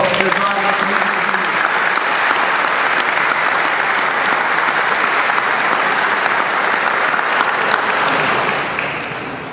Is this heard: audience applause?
yes